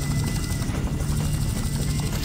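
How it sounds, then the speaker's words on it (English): A helicopter in the game Just Cause thrums nearby with a steady, dense rotor and engine drone, loud and continuous throughout. "Helicopter, that's gonna do it."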